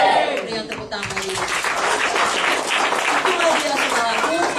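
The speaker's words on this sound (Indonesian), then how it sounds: "Beri yang tepuk tangan lagi." Applause and clapping from a congregation at a church seminar, rising into steady clapping across the room while a voice speaks over it at the start.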